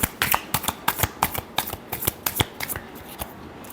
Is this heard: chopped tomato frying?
no